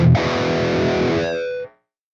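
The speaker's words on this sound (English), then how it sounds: "I'm going to actually get my Tube Screamer emulation that I have on the 11 racks input, and I'm going to crank the drive" Distorted electric guitar through a Tube Screamer emulation with drive set to noon, a single loud sustained chord ringing out gritty and saturated before cutting off abruptly into silence.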